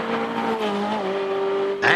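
A Ferrari race car at full throttle climbing the Gurston Down hill climb, its engine holding a loud, steady high-pitched note that shifts pitch once, close and continuous for two seconds.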